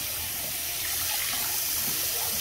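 Tap water pours steadily over a Bissell PowerForce Helix vacuum cleaner filter held under the stream for rinsing, making a continuous close splashing rush with no speech.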